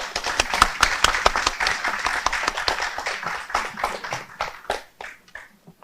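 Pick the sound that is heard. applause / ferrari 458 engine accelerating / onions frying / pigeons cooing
applause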